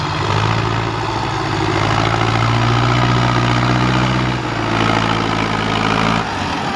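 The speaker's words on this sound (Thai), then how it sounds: "จัดรถไถมาสองคันนะครับ" A farm tractor engine runs steadily in heavy, sticky soil, a loud continuous low drone with a brief dip in load midway before it picks up again.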